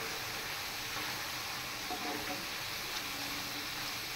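Two stinging catfish go into a pan of spice masala over a stove fire, giving a steady, dense sizzling hiss that holds evenly throughout with no one talking.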